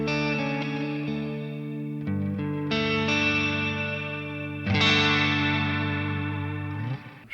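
Electric guitar through a Tone City reverb pedal, with distorted chords struck a few times, each left to ring out and wash into a lingering reverb tail, close and clear with no talking.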